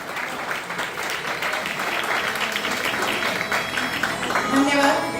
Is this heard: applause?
yes